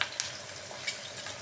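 Curry leaves and tempering spices frying in hot oil in a pan give a steady close sizzle with a few sharper spattering pops.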